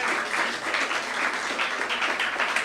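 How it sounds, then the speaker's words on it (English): Audience applause at a Lions Club zone gathering in South St Vincent, a steady, full wash of many hands clapping together, fairly close and continuous with no break. "Give another round of applause."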